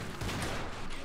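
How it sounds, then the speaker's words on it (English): Grenade explosion in the video game Half-Life Blue Shift (Sven Co-op), a short, loud, dense burst of blast noise filling the whole moment. "Oh, the grenade!"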